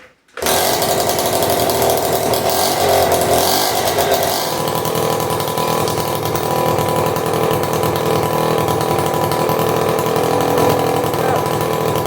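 A 1978 Honda Express NC50 moped's small two-stroke engine, run heavy on oil and started on choke, catches after a brief pause and then buzzes loud and steady in the garage, a close, raspy drone with no break.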